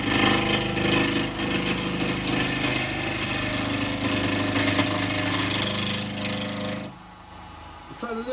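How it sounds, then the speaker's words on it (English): A gouge cuts into a spinning yew bowl on a wood lathe, giving a loud, steady rough scraping over the motor's hum. It stops abruptly near the end, leaving a quieter hum. "this gouge can take a lot of wood off"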